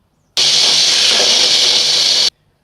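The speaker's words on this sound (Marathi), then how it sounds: "आता याला झाकण लावून आपल्याला हे मिक्सरला फिरवून घ्यायचं आहे." A mixer grinder whirs as it grinds dry fruits for sugar-free modak, one loud, steady burst of harsh motor roar lasting about two seconds before stopping abruptly.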